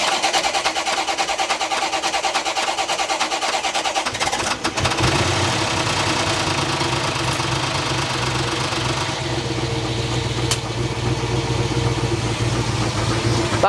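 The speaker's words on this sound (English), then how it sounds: "Let's just listen to the engine." A rebuilt Corvette C4 ZR-1 engine with a new vacuum pump cranks and catches around four seconds in, then settles into a steady, slightly knocking idle that continues close by.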